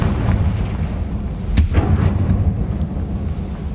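Blasting-spell explosion in the Hogwarts Legacy video game: one sharp boom bursts out midway over a dense rumbling game background, loud and close with no voices.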